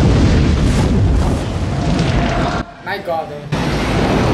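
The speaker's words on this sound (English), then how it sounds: "It's gonna explode." Loud, sustained movie explosion, a dense roaring boom filling the sound for over two seconds, cut briefly by a man's short exclamation, then the rumble resumes.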